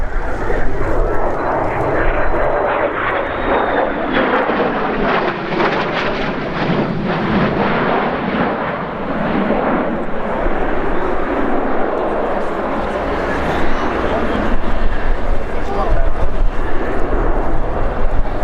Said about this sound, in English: F-35C, the carrier variant.